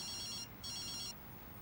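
A telephone rings indoors in two electronic trilling bursts separated by a short gap, clear and fairly close against quiet room noise.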